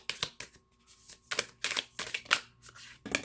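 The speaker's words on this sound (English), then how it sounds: "if I want to shuffle them" Small thick cardstock intimacy cards shuffled by hand, several quick papery riffles and flicks in irregular bursts with short pauses, close and crisp, no talk.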